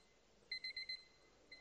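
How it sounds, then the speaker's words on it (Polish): A household alarm clock goes off in a quiet room: five quick electronic beeps in a row, then a short pause and one more beep, fairly faint against low background hiss. "nastawiłam budzik"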